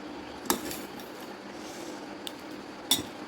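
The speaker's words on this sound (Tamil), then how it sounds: "இப்போ நம்ம குழம்பு எடுத்து வேறு பாத்திரத்தில் மாற்றிக்கலாம்." Metal utensils clink against a pressure cooker and bowl as village-style mutton curry is transferred, with two sharp clanks and a lighter tap over a quiet kitchen background.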